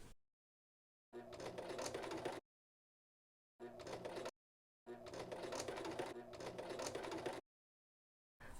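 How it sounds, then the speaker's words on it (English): Sewing machine stitching blue cording onto the edge of tattered denim, running in several close bursts of rapid mechanical whirring separated by silent gaps, no talk over the motor. "Let's run it through the sewing machine."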